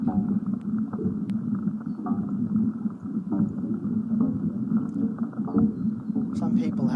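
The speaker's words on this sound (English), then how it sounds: "What you're hearing now is an air slug." An air slug moving through a water pipe manifold during leak detection gives a low, continuous gurgling rumble. It sloshes irregularly, close and steady throughout.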